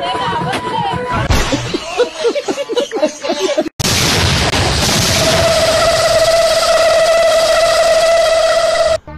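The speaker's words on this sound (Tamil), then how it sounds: "யாருப்பா அது ஸ்டேஜ்ல வெடிய வச்சது?" A sharp firecracker bang bursts out on a wedding stage, followed by a loud sustained crackle and hiss with a steady whistling tone, over earlier chatter and noise.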